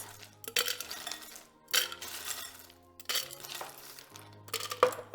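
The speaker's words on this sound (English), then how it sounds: "And here I'm gonna do in our shaker, ice." Ice cubes clatter and clink into a metal cocktail shaker for a pineapple tequila drink, several separate bursts of rattling chinks, close and fairly loud, with no talking.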